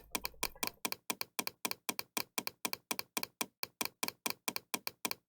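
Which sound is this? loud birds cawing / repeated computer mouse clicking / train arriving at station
repeated computer mouse clicking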